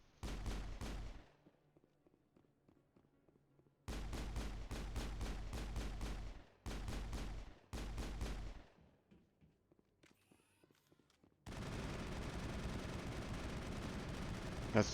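Bursts of rapid automatic gunfire from a firefight in the video game Mass Effect, several sustained volleys separated by short pauses, loud and close, ending in a long roaring burst.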